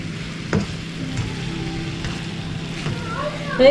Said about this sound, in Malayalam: ഞാൻ ഇതിലേക്ക് സ്റ്റോക്ക് കുറച്ച് ഒഴിച്ചു കൊടുക്കുകയാണ്. ചെറുതായിട്ട് ഇനി ഒന്ന് ഇളക്കി കൊടുക്കാം.